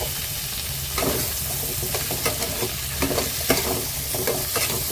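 Potato and cauliflower frying together in a wok, with a steady bright sizzle and repeated scraping stirs of the utensil, loud and close with no talk.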